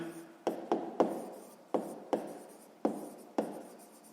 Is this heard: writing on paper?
yes